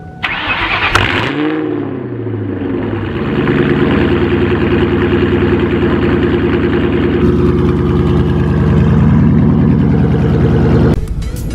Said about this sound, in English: is a cold start